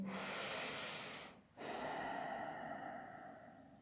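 Slow, deep breathing during a yoga stretch: a long, airy exhale, a brief pause, then another full, steady breath, close and soft with no talking.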